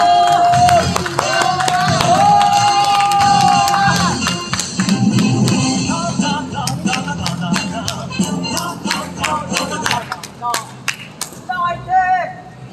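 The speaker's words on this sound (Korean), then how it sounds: "박수!" A crowd at a candlelight rally in Cheongju, South Korea claps and cheers as a speaker is welcomed, with loud sharp handclaps and shouting voices close by, thinning into scattered claps and chants toward the end.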